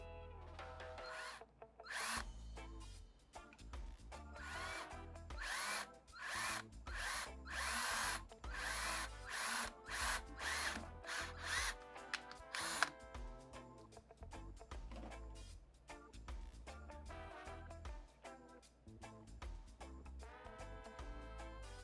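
A power drill whines loudly in repeated bursts, stopping and starting as it drills out a plug on a Harley-Davidson Sportster CV carburetor, with no talking.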